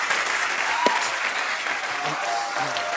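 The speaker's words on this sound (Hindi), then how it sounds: "जोरदार तालियां।" A studio audience applauds steadily and loudly for a guest's arrival on a comedy talk show, the clapping continuous throughout with a faint voice briefly audible underneath.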